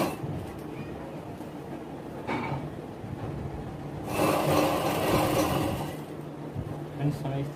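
A sewing machine stitches a seam on a baby girl's kurti with a rapid mechanical clatter that swells louder in bursts, with someone talking over the running machine.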